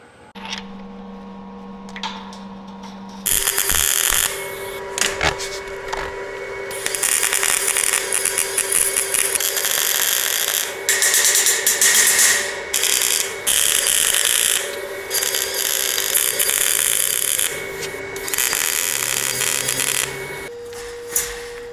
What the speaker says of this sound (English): I bring them out to the machine shop just so I can bore a perfectly clean half-inch hole